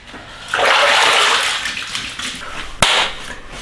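Lukewarm water splashes and rushes while a face is washed, a broad hissing burst that tapers off, followed by a sharp knock and a fainter trickle, close and without talking.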